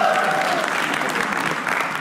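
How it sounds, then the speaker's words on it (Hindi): An audience at a comedy roast bursts into applause, a dense, loud wash of clapping from a crowd that holds steady for the whole moment, with a voice faintly present beneath it. "तालियां एक बार"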